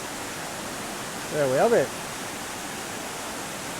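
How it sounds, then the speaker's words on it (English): A waterfall on the River Swale gives a steady, even broadband rush from a distance along a trail, while someone speaks briefly over it in the middle. "there's a waterfall through there"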